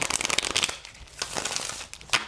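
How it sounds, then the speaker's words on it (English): Tarot cards being shuffled by hand, a run of quick riffling and papery snaps that stop and start in short bursts, fairly close and with no talking. "Let's do one more shuffle, one more good one."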